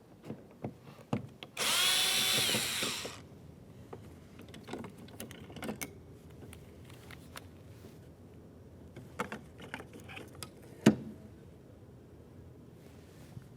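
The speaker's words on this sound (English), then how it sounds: "We'll use our T20 Torx bit for this." A power drill fitted with a T20 Torx bit runs in one steady burst of about a second and a half, driving out a small screw in a 2006-2012 Ford Fusion rear door, followed by faint clicks and handling noises.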